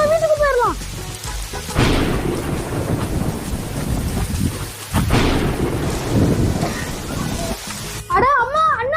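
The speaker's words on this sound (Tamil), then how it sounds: "வெளிய பயங்கரமா மழை பெய்யுது" Torrential rain hisses throughout, punctuated by two sharp thunderclaps that rumble away, with brief voices at the start and end.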